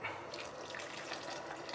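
Tap water runs steadily into a pot for boiling longganisa, a close, continuous splashing hiss lasting under two seconds with no voices.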